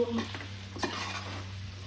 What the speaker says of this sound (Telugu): ఇప్పుడు ఇంత కొత్తిమీర మళ్ళీ ఒకసారి కలుపుకో